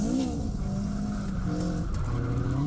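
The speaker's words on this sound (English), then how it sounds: "I clutch kicked a little bit too hard there and spun out on that corner" A Toyota AE86 spins out while drifting on a race track, its tires squealing loudly and steadily over the engine drone, close and continuous with no talk.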